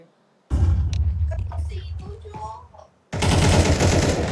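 Gunfire in a tactical shooter video game: a dense stretch of rapid shots with a player talking over it, a short quiet gap, then another loud sustained burst of firing.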